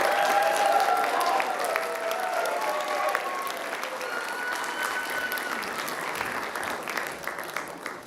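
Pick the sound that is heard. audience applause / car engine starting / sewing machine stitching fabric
audience applause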